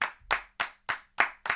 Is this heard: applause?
yes